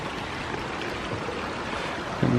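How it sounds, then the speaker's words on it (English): Spring water runs down a rain-soaked hillside and across a forest trail, a steady soft rushing and trickling heard close and alone. "With all this rain, there are tons of springs coming on down from the hillside."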